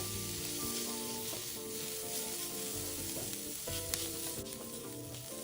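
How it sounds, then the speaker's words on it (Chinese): Onion and bitter melon pan-fry, searing until lightly charred, giving a continuous loud sizzle with stirring scrapes over soft background music throughout. "一直煎至食材局部微微焦即可熄火"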